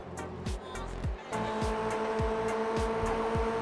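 Race cars in the iRacing sim roar around the Okayama circuit, a steady loud engine drone with repeated upshifts and a few brief tire squeals, no voices.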